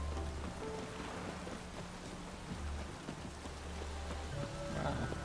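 Rain in The Witcher 3, a soft, steady patter of drops on surfaces with a low ambient rumble, held at a fairly quiet level throughout.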